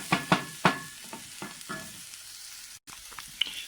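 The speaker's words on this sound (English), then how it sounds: "it's now I'm stirring with a wooden spoon" A wooden spoon stirs stuffed pepper dolmeh filling in a pan, giving several sharp scraping knocks in the first two seconds over a soft sizzle that continues alone, close and fairly quiet.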